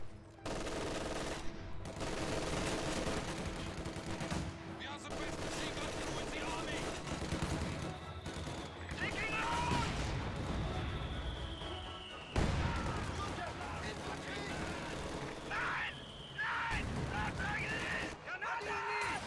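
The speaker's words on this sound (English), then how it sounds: "Nice rifle grenade right there." Rifle grenade blasts and steady gunfire from a Company of Heroes match, dense, continuous battle noise with bursts and booms throughout, heard under a commentator's voice.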